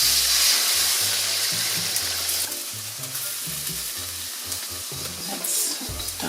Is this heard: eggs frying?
yes